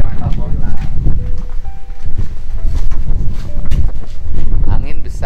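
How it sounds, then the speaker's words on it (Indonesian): Strong wind buffets the microphone at a mosque under construction, a constant roaring rumble running beneath people talking throughout. "Angin besar ya, Pak ya."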